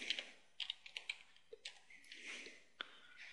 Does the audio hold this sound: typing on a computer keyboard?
yes